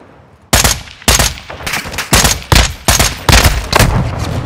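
Heavy gunfire in Call of Duty: Modern Warfare II multiplayer, with loud close shots or short bursts in a fairly steady rhythm of about seven or eight blasts, each with a booming tail.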